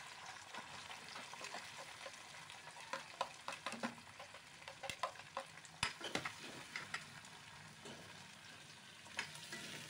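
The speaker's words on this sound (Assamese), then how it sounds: "আৰু এতিয়া পিঁয়াজখিনি ইয়াক ধৰি মই ভাজি ল'ম" Onions frying in a wok for an Assamese village dish, with a steady soft sizzle under repeated scraping and stirring clatters throughout.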